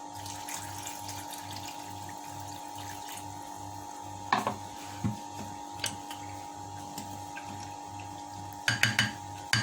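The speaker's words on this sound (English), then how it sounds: "what I'm going to do now is add in the water." Water is added to a pot of cornmeal porridge: a faint, steady trickle beneath a regular low ticking hum, broken by a few sharp clinks of metal against the pot.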